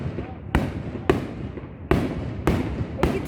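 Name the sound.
fireworks exploding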